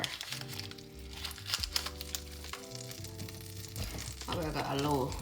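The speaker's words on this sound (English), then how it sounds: "To our pan, I'm gonna add a little cooking oil along with butter." Butter and cooking oil sizzling in a pan, a crackling, crinkly fry that swells louder toward the end, heard beneath a speaking voice.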